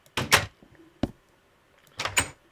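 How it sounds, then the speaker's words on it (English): A wooden door in the Minecraft video game swings open and shut, two quick close clicks followed by a single short knock, then another pair of clicks, each brief and crisp against near silence. "That should be the sound of a door."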